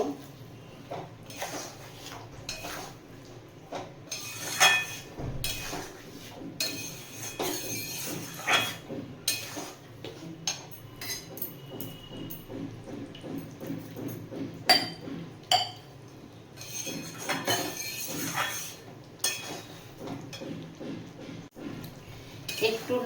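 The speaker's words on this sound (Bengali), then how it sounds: "ভেজে রাখা পটলগুলো এর মধ্যে দিয়ে দেব পটলগুলো দিয়েও নাড়িয়ে নেব" Fried pointed gourd (potol) being stirred in a pan for a yogurt potol curry, with repeated metallic clinks and scrapes of a utensil against the pan coming in bursts, close by and fairly quiet.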